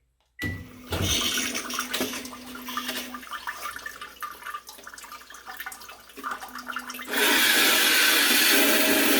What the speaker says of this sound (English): now I'm gonna choose posterior wash, and then I'm gonna show you how the nozzles move up and down